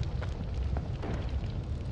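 A continuous low rumbling roar of a bomb explosion and burning debris in the pixel game Noita, steady and fairly loud with faint crackles over the two seconds.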